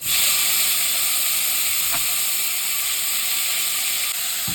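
Chopped tomatoes hit hot oil with browned onions in a pan for chole masala, giving a sudden loud, broad sizzling hiss that holds steady and close, with no voice.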